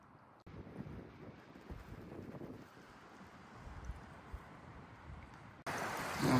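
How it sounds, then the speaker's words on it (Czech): Strong wind gusting across a lake campsite, buffeting the microphone with a steady low roar that swells louder near the end, with no one talking. "tady se spustil nějaký strašný vítr"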